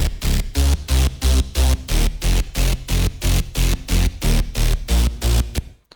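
Synthesized bass in a happy hardcore track, hammering out loud, evenly spaced pulses at a fast dance tempo over a deep sub layer, cut off abruptly at the end.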